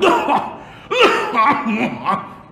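A few rough coughs mixed with breathy, laugh-like sounds, close by and moderately loud, with brief vocal noises between them.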